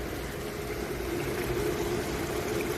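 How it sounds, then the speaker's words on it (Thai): Water flowing down a small decorative waterfall in a Japanese garden with koi carp, a soft continuous splashing rush at moderate distance, steady and without voices. "เป็นน้ำตกเล็กๆเลยครับ"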